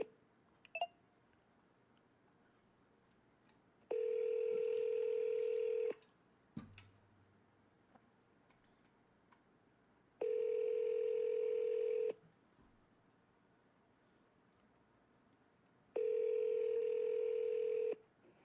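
Telephone dialing tones during a real estate sales call: three long, loud steady tones separated by quiet gaps, with a few faint clicks between them.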